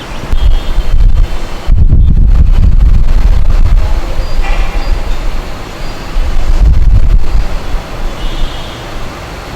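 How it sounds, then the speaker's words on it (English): Sand pours from a sand pouring cylinder through an open valve into a test hole for an in situ density check. It makes a loud, gritty, rushing hiss in uneven bursts, close to the microphone, with no speech. "Open the valve and allow the sand to fall into the hole."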